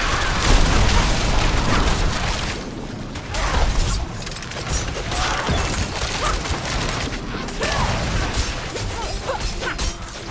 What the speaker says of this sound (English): I should not have face tanked that explosion.